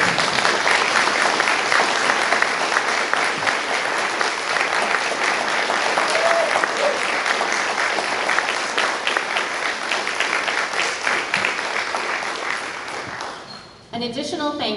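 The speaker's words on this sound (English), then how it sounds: "Staff members, please stand for a round of applause." An audience at a school's 8th-grade graduation ceremony applauds the staff, a loud, sustained wash of clapping filling the hall for over thirteen seconds before it tapers off and cuts away.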